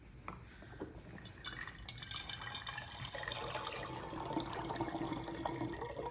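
Liquid is poured into a container during a garden fermentation trial, a steady, fairly quiet splashing and trickling that runs for several seconds.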